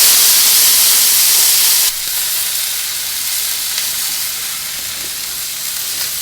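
Tri-tip on a smoker grill sizzles in a loud, close, continuous hiss that drops slightly after a couple of seconds and then holds steady.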